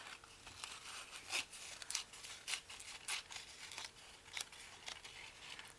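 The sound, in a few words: scissors trimming paper doily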